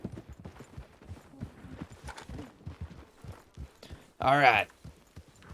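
Horses walk along a trail in the Western roleplay game RedM, their hooves a steady, soft clip-clop running beneath continuous conversation, with a sudden loud burst near the end.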